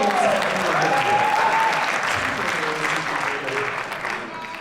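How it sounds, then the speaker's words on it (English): Audience applause fills a comedy show about South African education and student fees, a steady dense clatter of many hands that holds for several seconds, fades slightly at the end, and has a few faint voices mixed in. "I was going to get a clap for that."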